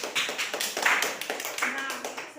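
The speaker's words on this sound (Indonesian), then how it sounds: "tepuk tangan dulu untuk Desi." A classroom group claps briefly for a student after a lesson on heat and temperature. The claps are quick and close, and a voice talks over them.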